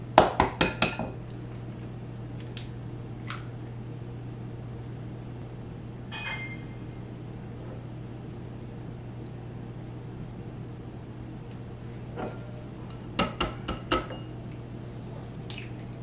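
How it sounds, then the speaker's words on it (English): Eggs being separated in a kitchen, sharp taps of shells cracking against a bowl at the start and again near the end, with soft drips and squishes of egg in between, close and otherwise quiet. "and I will be separating those eggs"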